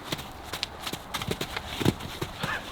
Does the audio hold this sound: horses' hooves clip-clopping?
yes